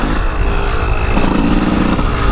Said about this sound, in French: J'ai ralenti ma moto, j'ai pas fait frotter, mais j'ai ralenti ma moto.